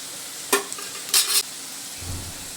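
Ground spice paste of green chilli, tomato, garlic, ginger and whole garam masala hits well-fried onions in a pan for an egg curry, giving a sharp sizzle and two scraping stirs, then a low rumble, with no talking.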